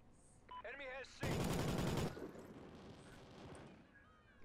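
Gunfire in the video game Call of Duty Ghosts, a loud burst of rapid automatic shots lasting under a second, preceded by brief game chatter and electronic tones and followed by fainter echoing shots and clatter.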